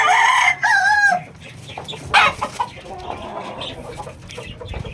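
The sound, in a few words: fighting rooster crowing and clucking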